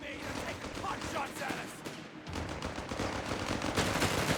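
Dense, rapid heavy machine gun fire in a Company of Heroes 3 battle, steady and continuous, with a commentator's voice running over the shooting.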